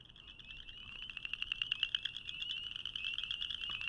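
Blanchard's cricket frog calling alone, a rapid series of sharp clicking notes that speed up and grow louder, dense and insistent against quiet night background.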